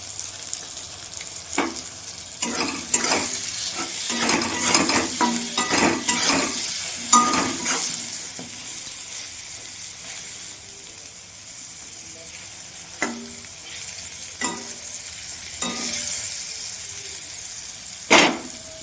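Eggplant pieces, dusted with a little turmeric, sizzling in hot oil in a pan, a loud continuous fry hiss punctuated by sharp scrapes and clinks of a spatula stirring, busier early and sparser later.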